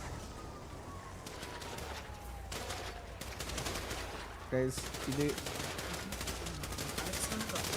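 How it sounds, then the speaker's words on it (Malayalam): Gunfire in an intense defensive video game match, bursts of rapid automatic shots over a steady backdrop, with a louder, sharper cluster midway and someone speaking briefly. "ഇറങ്ങി നിന്ന് വെടി വെക്കുന്നുണ്ട് കേട്ടോ"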